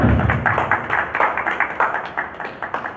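A live audience at a Hindi poetry gathering claps to welcome the poet Aman Rangeela, a loud, close, rhythmic patter of hands that fades a little over a few seconds.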